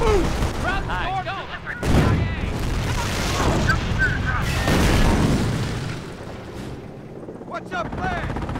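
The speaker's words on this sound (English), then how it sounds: "Rounds are firing on us." Battle in the World War II strategy game Company of Heroes, with rounds of gunfire and heavy booms bursting over a rumbling din while voices call out in the background.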